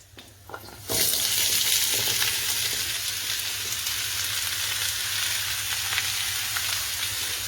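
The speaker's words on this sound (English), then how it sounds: "The last few bits of the butternut squash. And I'll just saute this off" Butternut squash sautéing in a hot pan for a vegan nut roast, a steady, loud, close sizzle that bursts in after a brief quiet moment and carries on unbroken.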